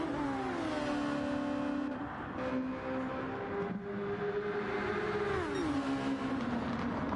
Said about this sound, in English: Greta Thunberg got a nice exit from there and is now going to be in the slipstream of Rob Goblin.